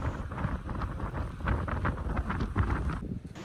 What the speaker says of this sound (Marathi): प्रचंड मोठो वारो सुटलेलो आणि वाऱ्याने अक्षरशः आम्ही हलत होतो